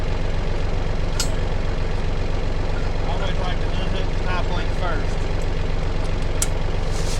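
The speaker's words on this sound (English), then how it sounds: "I hope the tractor noise doesn't drown out my voice here." A tractor engine runs steadily with a loud, constant rumble close by, while someone talks over it.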